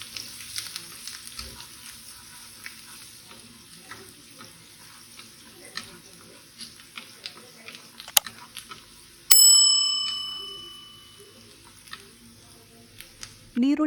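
Chopped onions frying in a pan for a bonda masala roast, a low continuous sizzle with scattered crackles and stirring clicks, then a sharp metallic ring that fades slowly.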